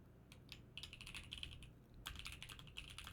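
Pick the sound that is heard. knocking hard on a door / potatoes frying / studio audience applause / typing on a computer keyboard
typing on a computer keyboard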